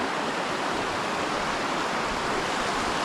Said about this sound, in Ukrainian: Перша річка на нашій дорозі.